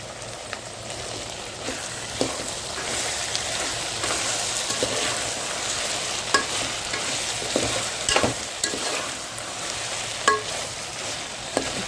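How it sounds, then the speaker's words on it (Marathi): Red chilli chutney and onions frying in a pan while being stirred, a continuous close sizzle broken by repeated scraping and clinking strokes of a spoon, no voices. "आता वरून थोडीशी मी ही चटणी मिक्स करून परतवून घेत आहे"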